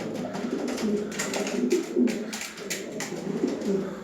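A male pigeon coos in courtship, repeating soft, throaty rolling phrases close by, with steady background hiss and no talking.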